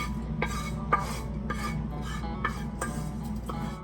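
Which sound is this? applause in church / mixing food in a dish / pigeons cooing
mixing food in a dish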